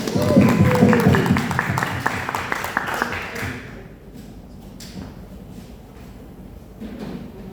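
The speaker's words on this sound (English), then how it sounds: "Give them a round of applause" An audience applauds a presenting group at a school TED Talk event, a loud dense patter of clapping that fades after about three seconds into quiet room tone.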